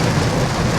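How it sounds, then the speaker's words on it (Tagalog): Heavy rain drums hard and steadily on a moving BYD Seal 5 car during a drive, a loud continuous roar filling the cabin. "Superb ang lakas ng ulan dito."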